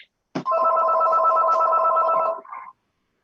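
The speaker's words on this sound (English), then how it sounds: "I was just not sure whose phone is ringing" A mobile phone rings loudly during a city board of adjustment meeting, one sustained electronic ringtone lasting about two seconds, then a brief trailing tone before silence.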